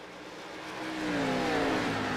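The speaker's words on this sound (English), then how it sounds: "you can hear the braking that has to happen as you go into that turn" Race cars braking hard into a turn at the New Hampshire Magic Mile oval during a 200-lap race, a rising, whining engine and brake roar that swells louder over two seconds with no talk.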